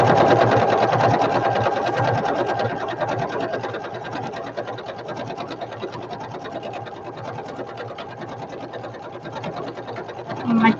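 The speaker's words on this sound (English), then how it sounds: "So I'm going to go this way now, and I'm going to sew" A sewing machine runs steadily, stitching fabric for a flower basket, with a continuous fast needle chatter that starts strong and eases slightly, close and fairly loud with no talking over it.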